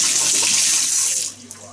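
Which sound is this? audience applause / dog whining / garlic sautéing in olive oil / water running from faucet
water running from faucet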